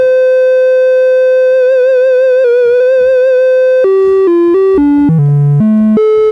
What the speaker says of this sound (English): So triangle in this case, with vibrato, with also sine or triangle.